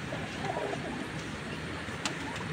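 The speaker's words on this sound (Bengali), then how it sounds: "কারণ এটা কবুতর, মানুষ না।" Pigeons cooing softly in a home loft on a rainy day, a low, steady murmur of coos with no voices, one pigeon appearing to have caught a cold.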